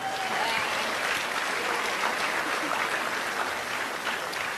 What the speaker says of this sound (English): let's get a huge applause for LRT here